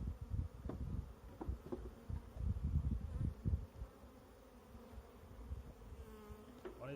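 Honey bees buzz around an open Langstroth hive box during a spring inspection, a soft, steady insect drone with a few closer thumps and handling knocks, no voices.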